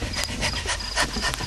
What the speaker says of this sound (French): Ce halètement. Mais quel gros chien!